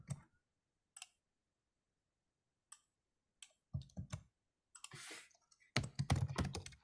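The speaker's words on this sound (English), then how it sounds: "as I'm typing out county" Typing on a computer keyboard, with sparse, faint key clicks scattered across the quiet stretch, then a few denser bursts of tapping, close but soft and with silent gaps between strokes.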